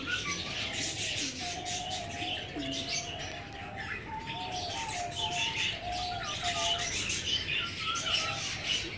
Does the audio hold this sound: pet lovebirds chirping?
yes